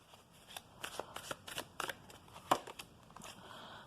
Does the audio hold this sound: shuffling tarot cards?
yes